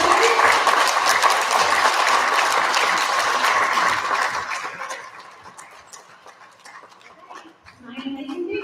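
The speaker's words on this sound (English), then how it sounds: "Can we get a nice big round of applause for all of our class award winners?" Applause at a school recognition ceremony for class award winners: a loud, dense wash of clapping from the crowd that holds for several seconds, then fades to quieter scattered claps before voices rise at the end.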